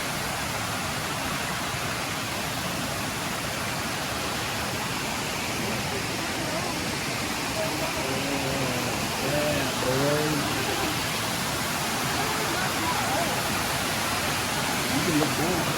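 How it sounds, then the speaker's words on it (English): Steady broadband roar of a waterfall beside a bridge on a nature trail at Lost Canyon, continuous and close, with faint voices briefly audible beneath the rushing water. "We're gonna cross this beautiful bridge and this waterfall."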